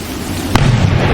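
A single sharp gunshot cracks midway through a loud, rumbling background of wind and noise, a short bright burst followed by a low rolling boom.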